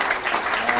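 At a Sierra Club meeting in Dallas, a small audience gives a short, lively burst of clapping, a quick crackle of several hands heard close and alone for under a second.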